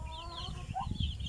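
Chickens cluck faintly on a small farm, with a few short, rising calls over a low rumble of background noise.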